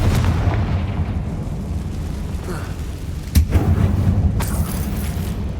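A Confringo fire spell bursts in Hogwarts Legacy inside a closed mine that looks like a tomb, a single sharp blast cracking over a dense, rumbling background roar, followed by a second smaller pop.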